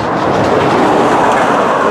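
Florida East Coast Railway freight train FEC103 rolls past close by, a loud, steady broadband rumble of wheels and rail noise with faint clickety-clack, filling the whole stretch with no voices.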